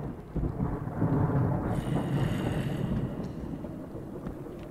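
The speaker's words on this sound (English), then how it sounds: "Why is there thunder in the cave?" Low, rolling rumble of thunder inside a cave in the video game Minecraft, a sustained loud roar that swells early and slowly fades, carrying a rain-like hiss.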